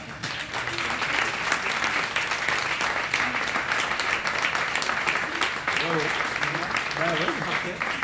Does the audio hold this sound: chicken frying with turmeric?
no